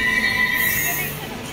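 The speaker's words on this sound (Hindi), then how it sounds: "तो अब हम लोग पहुँच गए हैं कवन पार्क मेट्रो स्टेशन" Metro train at Cubbon Park station in Bangalore, with a steady rumble and a high wheel squeal close by throughout a short stretch, easing slightly toward the end.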